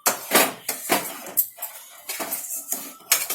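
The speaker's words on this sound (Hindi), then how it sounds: "अब इसे मैं अच्छी तरह से मिक्स कर लूंगी।" Sugar and chopped dry fruits are stirred into ghee in a metal bowl for gujia filling, producing repeated close scraping and clinking of a spoon against the bowl in irregular bursts.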